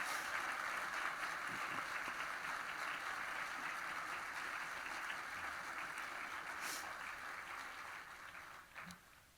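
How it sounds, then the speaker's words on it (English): Audience applause at a university awards evening, a soft, sustained round of clapping heard from a distance that thins toward the end. "Please join me in a round of applause to thank our 1862 members, society members"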